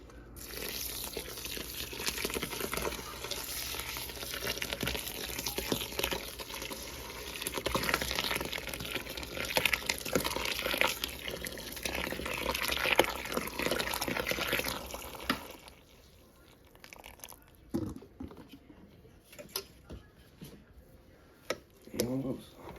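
Water being drawn up during home beer brewing, a continuous bubbling, trickling flow that lasts about fifteen seconds before fading to scattered drips and small clatters, with quiet talk in the background.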